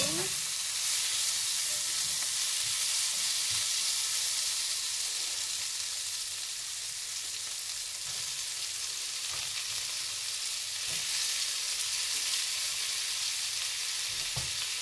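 Asparagus and tomato frying in an open pan, a continuous bright sizzle and hiss with occasional soft stirring, steady and close.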